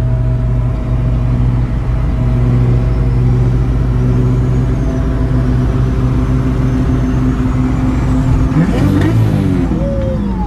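A turbocharged Toyota Supra with a 2JZ engine drives along, its loud steady drone filling the whole stretch, with a brief rising burst near the end and no voices.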